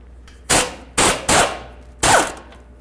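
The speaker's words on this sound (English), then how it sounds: "Remove our upper bolt." Upper brake caliper bolt being removed on a 2012-2016 Subaru Impreza front brake: four sharp, loud tool bursts, likely an impact wrench, each lasting a fraction of a second, separated by brief quiet gaps.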